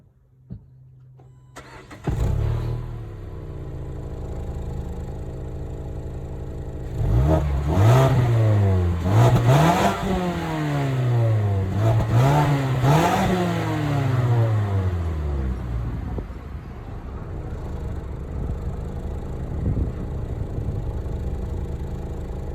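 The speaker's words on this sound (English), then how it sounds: "Honestly, I think this thing has a pretty good exhaust." A 2020 Mazda CX-5 engine cranks and starts, then revs sharply several times in a row through its exhaust before settling back to a steady idle, loud and close.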